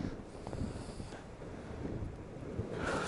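Steady low wind rush buffets the microphone while snowkiting in light wind over firm crusted snow at Obertauern, a continuous broadband roar with gentle swells and no voices.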